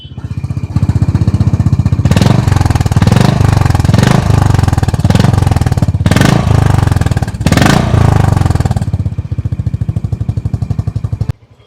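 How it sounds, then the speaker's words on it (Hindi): A Honda H'ness CB350 motorcycle's exhaust thumps steadily at idle, then is revved in several loud, sharp bursts before settling back, close and alone, then cutting off at the end. "देखिए हाइनस का एग्जॉस्ट सुनिए आप।"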